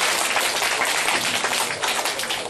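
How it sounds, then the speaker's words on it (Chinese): An audience claps for a student at a hands-on science demonstration on magnetism, dense and steady applause filling the room and continuing without a break. "来掌声鼓励一下我们林同学"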